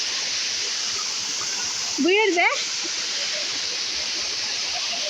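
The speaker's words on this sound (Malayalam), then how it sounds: "ആ വെള്ളച്ചാട്ടത്തിൽ നിന്ന് ഒഴുകി വരുന്ന വെള്ളം താഴോട്ട് ചെറിയൊരു തോട് വഴി ഇങ്ങനെ പോകും" Water from Thirikakkayam waterfall flows down a small stream, a constant broad rushing wash. A person calls out briefly near the middle.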